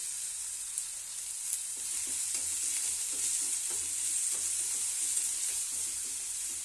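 Tempering of raw ginger, garlic and green chili for Davanagere-style curd rasam, frying in hot oil with a bright, steady hiss and crackle, close and unbroken, with no talking.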